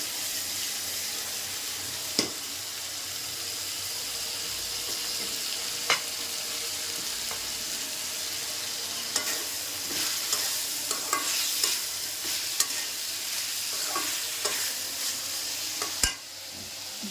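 Tomatoes frying and being stirred in a pan for a fish curry, a steady close sizzle broken by sharp scraping clicks of the spatula against the pan, busier toward the end.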